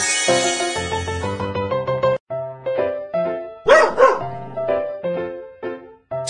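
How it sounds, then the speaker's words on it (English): A cartoon puppy barks several times in a kids' hearing-test game, with loud yips set over a bouncy music backing. "Puppy!"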